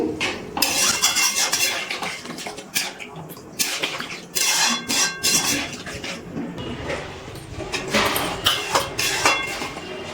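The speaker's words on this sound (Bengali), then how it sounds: "মশলার সাথে আলুগুলো ভালো করে একটু নাড়াচাড়া করে মিশিয়ে নিয়েছি" Potatoes with spices and water are stirred in a metal pot, with repeated scraping, clinking and knocking of a utensil against the pot in an uneven close rhythm.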